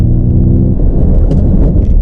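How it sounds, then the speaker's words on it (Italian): A Ford Mustang Mach-E electric coupé SUV braking hard, heard as a loud, steady low road rumble and tyre noise from inside the car, with a faint humming tone that fades partway through. "frenata, devo dire che la frenata è mostruosa"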